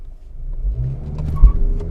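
Mazda CX-30 GT engine rising in a short rev while brake torquing, a low muffled drone heard from inside the cabin that swells briefly and then holds.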